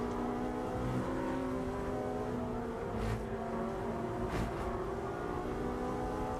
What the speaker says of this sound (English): Great to listen to those cars running over the curbs.